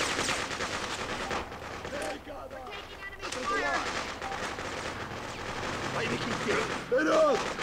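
Gunfire in the Freedom Fighters video game, with dense bursts of rapid automatic shots and scattered single reports continuing throughout, loud and close, while shouted voices call out over the battle.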